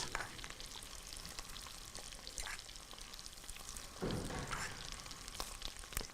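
Boiled chickpeas frying in butter with red pepper flakes, a steady close sizzle with scattered crackles and a louder burst of spitting partway through, no voices.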